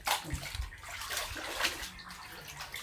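Water sloshes and splashes in a shallow basin during hand-washing of clothes, a steady close wet swishing with a few louder splashes and no talk.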